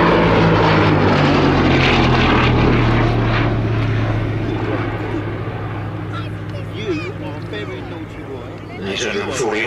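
A Gloster Gladiator biplane with a nine-cylinder Bristol Mercury XIII radial engine drones loudly with a deep, steady propeller hum, fading slightly as it passes, while someone talks over it.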